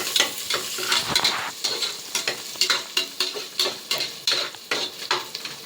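Onions sauté in a pan for a Tamil goat-head curry, a steady loud sizzle broken by repeated scraping stirs of a utensil against the pan, with no talking.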